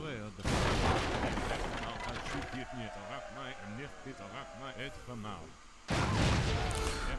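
Siege units bombard a trading post in Age of Empires 3 Definitive Edition, with heavy booming impacts at the start and end. Someone talks through the quieter middle stretch.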